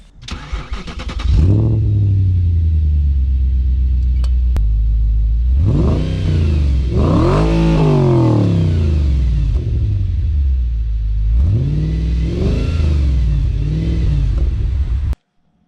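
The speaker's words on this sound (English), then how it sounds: "So that is the Milltek exhaust system, which is an aftermarket unit" A 2006 Audi RS4 Avant 4.2L V8 with a Milltek aftermarket exhaust cranks to life, then revs hard in repeated rising and falling bursts, settling into a deep idle rumble between blips, loud and close.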